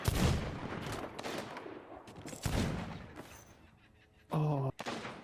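Gunfire from the pirate video game Sea of Thieves: several loud, sharp shots spaced apart over a steady bed of game noise, then a brief sustained tone near the end.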